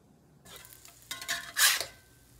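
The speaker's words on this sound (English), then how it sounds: "I am frying an egg" Brief clatter and sizzling from a pan as an egg fries, with a burst of crackling frying near the end; no one speaks.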